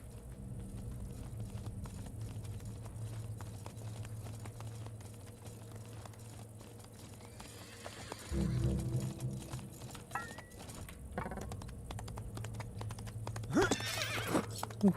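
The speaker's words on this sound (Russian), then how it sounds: "Это лошадь или что это?" Hooves clip-clop and a horse neighs inside a horror video game, the clopping steady and fairly quiet before a louder whinny bursts out midway and again near the end.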